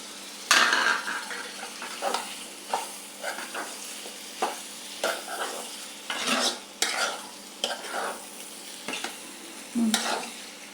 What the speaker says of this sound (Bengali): মশলাটা সুন্দর কষিয়ে নিয়েছি, এই সিমটা দিয়ে দিলাম।